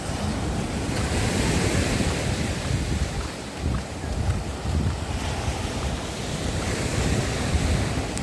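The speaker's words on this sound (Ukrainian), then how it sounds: "Це шторм, це щось неймовірне" Stormy sea surf rolls onto an Odesa beach, a continuous, loud wash of breaking waves with wind buffeting the microphone throughout and no voices.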